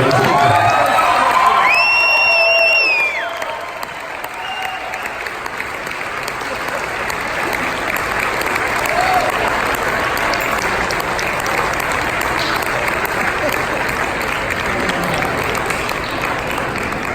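A crowd applauds steadily, with some cheers and whoops at the start, then fading into continuous clapping throughout.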